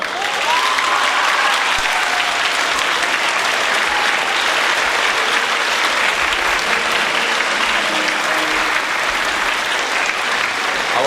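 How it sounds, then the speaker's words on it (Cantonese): Loud, sustained applause from a large crowd at a school graduation ceremony, steady clapping filling the whole stretch without a break. "大家留住嘅掌聲，我希望一陣可以爆發出嚟咯喎嚇"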